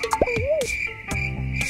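Crafty Corn's voice from the horror video game Poppy Playtime, Smiling Critters: a short cartoonish vocal call with a sliding, warbling pitch over a steady high tone and light game background sounds.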